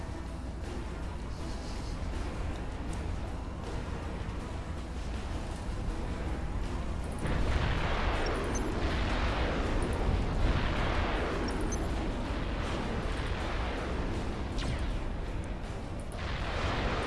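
Artillery fire in the Supreme Commander strategy game: a steady low rumble with repeated deep booming impacts that grow thicker midway and keep rolling in a loose, uneven rhythm.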